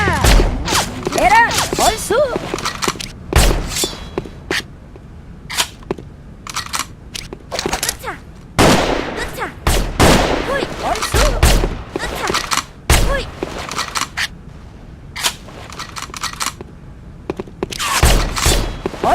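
Gunfire in the online first-person shooter Sudden Attack: rapid, loud shot bursts and volleys repeat throughout, close and sharp, with a voice speaking over parts of it.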